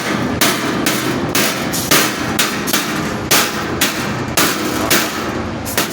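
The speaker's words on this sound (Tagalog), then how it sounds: "Martilyo. Kapal kasi." Loud hammer blows land one after another in a steady, uneven rhythm, about a dozen sharp strikes over six seconds above a constant noisy background.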